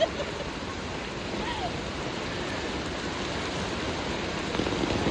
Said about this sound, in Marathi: आपल्या कल्याणमध्ये मॉडेल कॉलेजच्या इकडे किती पाऊस पडत आहे